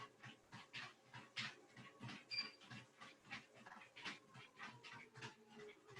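A dog named Ruby pants in quick, steady rhythmic breaths during a full-body exercise workout, the close, regular huffs repeating throughout with no talking.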